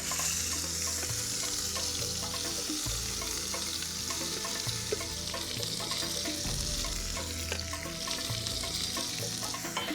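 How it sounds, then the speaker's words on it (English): Spice paste with lemongrass frying in a pan, a steady loud sizzle running throughout with occasional stirring and scraping, and no talking. "you fry it before applying it to the meat"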